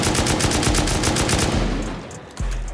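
Shotgun traps inside a base fire during a video game raid, a dense rapid barrage of loud blasts that fades out, followed by one last heavy thump.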